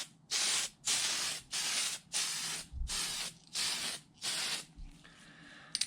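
Tamiya PS20 fluorescent red spray paint hisses from an aerosol can onto an RC car body in about seven short, even bursts separated by brief gaps, close and steady.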